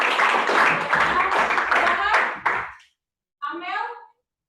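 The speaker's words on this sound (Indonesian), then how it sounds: "berikan tepuk tangan buat teman-teman" Students in a classroom clap for their classmates, a dense and loud patter of many hands for nearly three seconds that then stops abruptly. A short burst of a voice follows.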